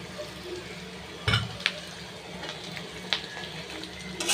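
Round-sliced sausages sizzle in a pan of frying egg and onion, a steady soft hiss broken by a few sharp clinks and bumps as the pieces go in and are moved about.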